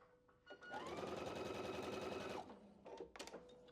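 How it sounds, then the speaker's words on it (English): Sewing machine stitching quilt pieces with a fast, steady mechanical whir for about two seconds, quiet and close, followed by a few short clicks and handling noises. "We're going to sew that piece on."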